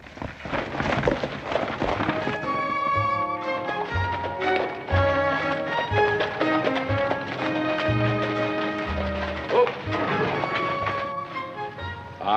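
Rhythmic clip-clop of horse hooves galloping under loud orchestral music in a 1959 Western TV drama, steady and energetic throughout.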